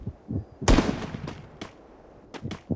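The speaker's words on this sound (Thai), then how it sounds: "โดนระเบิดดักหลัง" An in-game grenade goes off with one sharp, loud blast and a rumbling tail, followed by a few smaller pops and thuds in a fast-paced shooter match.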